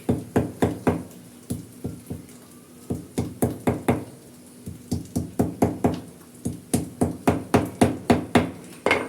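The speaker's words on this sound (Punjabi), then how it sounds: "ਹਰੀਆਂ ਲੈਚੀਆਂ ਇਦਾਂ ਮਤਲਬ ਕਿਸੇ ਵੇਲਣੇ ਦੇ ਨਾਲ ਇਦਾਂ ਕੁੱਟ ਕੇ ਪਾ ਦੇਣੀਆਂ ਨੇ" Green cardamom pods being crushed with a wooden rolling pin give a long run of sharp, close knocks, delivered in quick bursts of several blows with short pauses between them and no voices.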